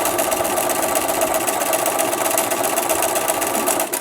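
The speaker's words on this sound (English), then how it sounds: "So I'm going to sew around this, 1/4 of an inch seam allowance" A sewing machine runs steadily and loudly up close, stitching a quarter-inch seam around a fabric pincushion with a fast, even mechanical whir and no speech.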